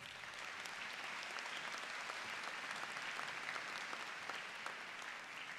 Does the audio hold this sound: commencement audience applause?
yes